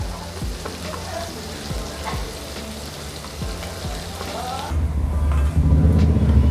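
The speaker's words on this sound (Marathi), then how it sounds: "कांदा छान मऊ होईपर्यंत आपण परतून घ्यायचं आहे" Onion and whole spices sautéing in a pan for an egg roast masala, a loud steady sizzle with periodic low spatula scrapes and stirs, close by, growing louder and more hissing toward the end.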